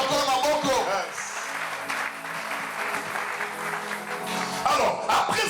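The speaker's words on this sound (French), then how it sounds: "Est-ce que tu peux acclamer les Seigneurs?" A church congregation applauding the Lord at a French-language teaching service, steady sustained clapping from a crowd that carries on throughout, mixed with voices.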